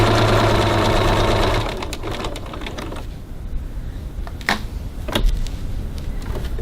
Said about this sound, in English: Just going to back stitch there as well, just for that little bit of extra security.